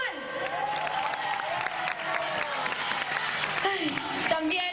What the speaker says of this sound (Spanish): Un fortísimo aplauso para Juan.